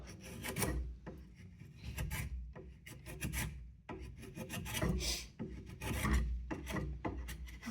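A spokeshave rasps along the curved edge of a wooden workpiece in a woodworking exam, a run of rhythmic scraping strokes, close and fairly quiet, with no talking.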